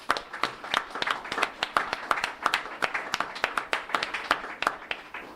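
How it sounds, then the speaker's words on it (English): A modest audience at a community redistricting meeting gives a round of applause, with individual claps distinct and close in an uneven, lively patter that continues for several seconds. "Can we please do a round of applause?"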